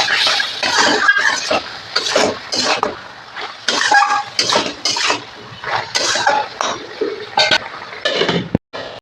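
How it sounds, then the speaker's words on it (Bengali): Chopped bottle gourd is stirred and sautéed with salt and turmeric in a pan, with repeated scraping and clattering strokes of a utensil against metal in quick uneven bursts, loud and close. "এবার লাউটাকে সুন্দর করে কষিয়ে নেব"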